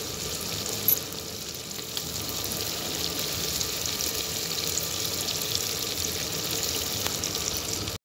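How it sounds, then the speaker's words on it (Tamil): Cubed elephant foot yam sizzles and crackles in hot oil steadily throughout, a dense close-up frying hiss with no talking. "இப்போ நம்ம வந்து கருணைக்கிழங்கு ஆட் பண்ணி இதை நல்லா எண்ணெயில் 10 மினிட்ஸ் வேக வைக்கலாம்"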